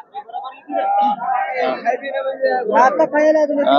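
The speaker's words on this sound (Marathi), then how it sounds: "गर्दी लय जाम आहे आता हळूहळू जावं लागते पुढे." Dense crowd of many voices chattering and calling out at a busy village goat market near Karnataka, continuous and close, with overlapping talk throughout.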